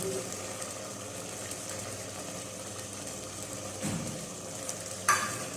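Yogurt goes into a sizzling white chickpea masala gravy and gets stirred in, making a steady low frying hiss and the scrape of a spoon. Near the end comes a brief clatter against the pan.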